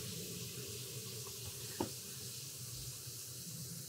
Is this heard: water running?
yes